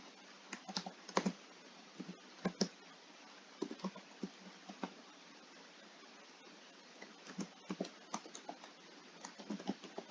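Quiet, uneven bursts of typing on a computer keyboard, with clusters of key clicks separated by pauses and a few sharper taps like enter presses, heard close up with no voices.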